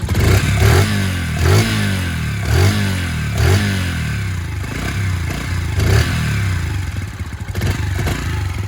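An AJS Cadwell 125cc motorcycle engine runs loud and close, blipping through repeated rising revs over a steady rattling idle, with no talk over it.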